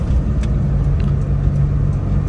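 A Suzuki Alto VXR, converted to automatic with bolt-on fittings including a new radiator, drives on the road with a steady close engine hum and road rumble, plus a few light ticks.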